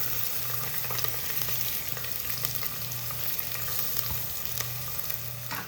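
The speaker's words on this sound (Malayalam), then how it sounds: "എണ്ണ നന്നായിട്ട് ചൂടായി വരുന്ന സമയത്ത് നമുക്കിതിലേക്ക് കട്ട് ചെയ്ത് വെച്ചിട്ടുള്ള സവാള ചേർത്ത് കൊടുക്കാം" Chopped onions frying in hot oil for a Kerala-style beef curry, giving a steady, dense sizzle and crackle with light stirring scrapes throughout, close and continuous with no talk.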